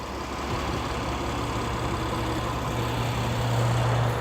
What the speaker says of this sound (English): as you can hear, the engine is idling happily.